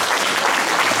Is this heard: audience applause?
yes